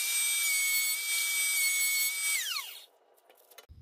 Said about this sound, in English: I'm putting an edge on this headboard